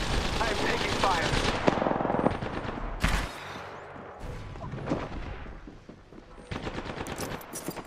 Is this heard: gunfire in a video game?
yes